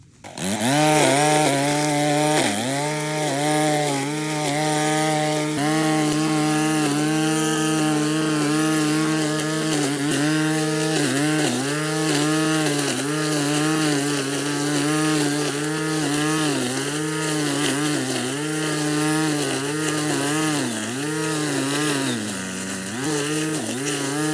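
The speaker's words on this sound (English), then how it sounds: "here's a closer look at that weed eater head that has the chainsaw chains on it" A weed eater fitted with a chainsaw-chain cutting head: its small two-stroke engine whines continuously, revving up and down with a harsh buzzing tone, close and loud for the whole stretch.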